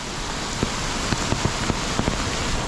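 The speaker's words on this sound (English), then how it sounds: "kind of giving a driving video in the rain here in Taipa." Steady rain hisses throughout in Taipa, Macau, heard from a car driving through flooded streets, with a series of sharper drops or taps striking a nearby surface.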